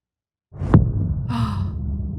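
A heartbeat effect from the game Tell Me Why, starting after a brief silence with one strong low thump followed by a sustained low throbbing pulse and a soft breathy layer above it.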